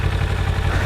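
A Kawasaki Vulcan S 650 motorcycle idles nearby with a loud, steady low throb, its even rapid pulses thumping without pause and no voices over it.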